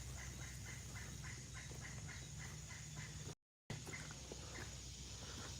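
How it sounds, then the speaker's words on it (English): A pileated woodpecker calling in woodland on a nature walk, a rapid series of repeated laughing notes that carries faintly over a steady outdoor background hiss. "There's a woodpecker right above me. Pileated woodpecker."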